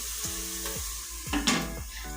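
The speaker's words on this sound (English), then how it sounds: "So I'm covering to fasten the process, you know, of sauteing the onions." Onions sizzling as they sauté in an electric pressure cooker, with a steady frying hiss and a few soft clinks and scrapes of a utensil against the pot. The sound is close and no one speaks.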